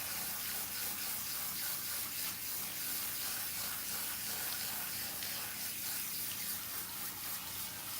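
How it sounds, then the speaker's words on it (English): Cool tap water runs steadily as hair is rinsed under it at a sink or bowl, a continuous soft hiss and splash with no talking. "I'm rinsing her in cool water because I don't want to take any chances on her color."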